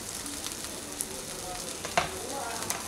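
Gathi kochu frying and being stirred in hot oil in a pan, a steady faint sizzle with a few soft scrapes of the spoon, close by and without any voice.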